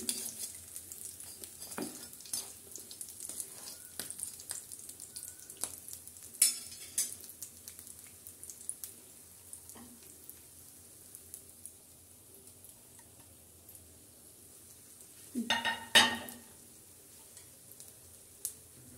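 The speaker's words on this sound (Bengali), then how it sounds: "এভাবে আমি সবগুলো এক এক করে ভেজে নেব।" Egg chops frying in hot oil, a quiet continuous bubbling sizzle broken by occasional clicks of a utensil and a louder clatter near the end.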